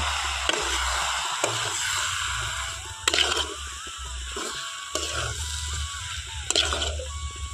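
Greens of water spinach and Malabar spinach cook with chickpeas in a pan as a spatula stirs them, giving irregular soft scrapes and knocks every second or so over a low steady hum and faint sizzle.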